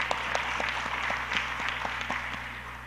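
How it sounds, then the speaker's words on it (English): Audience applause fills the room after a panel discussion at a South China Sea policy forum in Manila, a steady wash of many hands clapping at moderate volume, continuous from start to end. "Let's give them a round of applause."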